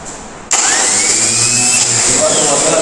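A car starter motor is powered on a bench test, kicking in abruptly after a short quiet moment, then spinning with a loud, steady high whine to the end while someone speaks over it.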